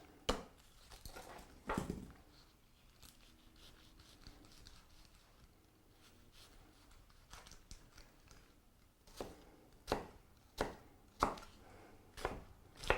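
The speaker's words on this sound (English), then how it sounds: "Cut your onion." Knife chopping an onion on a cutting board, quiet at first with a few scattered cuts, then a run of sharp close chops in a rough rhythm near the end.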